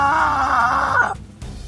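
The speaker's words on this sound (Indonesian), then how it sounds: "terdengarlah pekik pemimpin gerombolan setan merah itu." Gang leader in an Indonesian audio drama letting out a long, loud anguished scream that wavers for about a second before cutting off, followed by low rumbling background.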